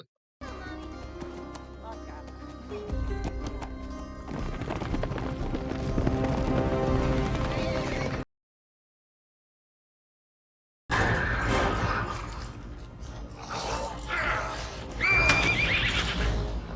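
A horse whinnies loudly over galloping hooves and commotion, then a brief silence before more frantic neighing and hoof noise resume.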